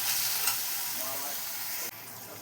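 Vegetables cooking slowly in a pan for a Maharashtrian-style pasta dish, giving a steady, close hiss with a stirring scrape that cuts off abruptly near the end.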